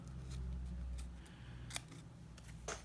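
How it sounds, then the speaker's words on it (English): Sharp snips of scissors cutting through flower petals, several quick separate clicks spread out over a quiet, low background hum. "I'm just going to snip off the petals"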